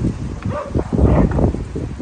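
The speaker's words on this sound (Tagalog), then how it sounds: "ang lakas ng hangin" Strong wind buffets the microphone outdoors near a bridge, a loud broadband low rumble that surges and eases over two seconds, with faint rustling and a brief high voice.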